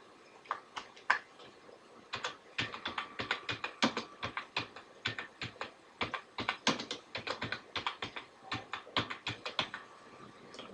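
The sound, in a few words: typing an address on a computer keyboard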